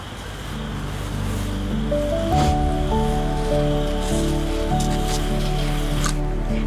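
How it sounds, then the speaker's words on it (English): Shower-spray watering of freshly planted cilantro and dill seeds makes a steady, rain-like hiss of water droplets, close and continuous, with soft music underneath. "Now to water them, and then we'll be all done."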